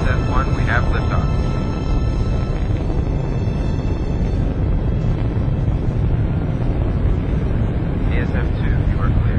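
Spaceship liftoff in the Freelancer game intro: a loud, dense, continuous roar of rocket thrust, with radio voices heard over it.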